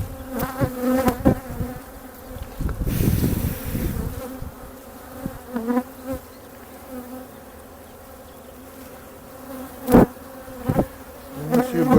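Honey bees buzz in a split hive, a steady insect drone running the whole time with a louder, thicker swell near the start and a few sharp knocks and clatters from hive handling later on.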